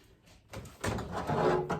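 A door being fitted onto a food dehydrator in a kitchen, with a soft scrape and then a rising plastic rub and clunk as the door slides into place, heard close and fairly loud.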